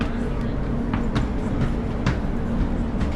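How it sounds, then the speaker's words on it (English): A South Western Railway train running along the rails, a steady rumbling roar inside the carriage with faint periodic clicks and rattles, while an announcement plays over it. "Welcome aboard the South Western Railway service to Woking."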